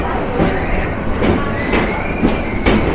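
The Rangpur Express intercity train pulls out toward Kauniya Railway Junction with loud, close rolling rumble, rhythmic wheel clacks over rail joints recurring every half second or so, and faint wheel squeal above.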